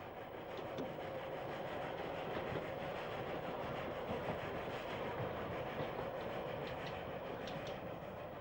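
A narrow-gauge mountain railway train climbs above Llanberis with a steady rolling rumble and faint rhythmic wheel clatter, heard at low volume from on board.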